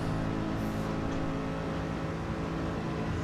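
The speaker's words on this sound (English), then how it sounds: "Drag race. What's got the more power? Is it the BMW, the Porsche or the Mercedes?" Several race cars, a BMW, a Porsche and a Mercedes, accelerating hard in a drag race on the Nürburgring Nordschleife, a steady loud engine roar sustained throughout with no voices heard.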